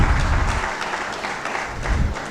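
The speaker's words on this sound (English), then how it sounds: "please give big round of applause to our chief guest" Audience applause for the chief guest at an NLC India Limited Vigilance Awareness Week valedictory function, a dense, loud burst of clapping throughout.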